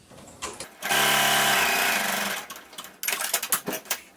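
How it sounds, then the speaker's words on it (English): A sewing machine stitches a dress seam in a steady whirring run of about a second and a half, followed by shorter bursts of rattling, close up and with no talking. "then you'll just sew down the other side"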